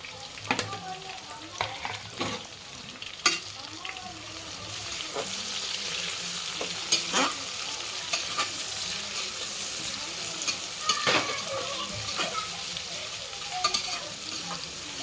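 Onions frying in oil in a pan, meant to turn brown and soft, give a steady hissing sizzle for the whole stretch, broken by scattered sharp clicks and scrapes of stirring, close-up and moderately loud, with no speech.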